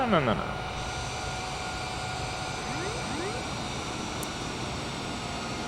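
Aircraft roar from a plane in a full nosedive in Microsoft Flight Simulator 2020, a dense, steady rushing drone with rising whine tones sweeping through, constant and loud from start to finish.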